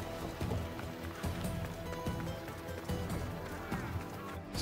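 Horse hooves galloping at a steady clip-clop rhythm in the video game Assassin's Creed Odyssey, set within a dense, continuous bed of game music and ambience.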